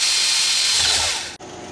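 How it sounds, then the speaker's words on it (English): A drill bores a small hole into an aluminum lock mechanism part, giving a loud, close, continuous high whine for over a second before it cuts off suddenly. "drill a small hole and tap it and put a screw in her"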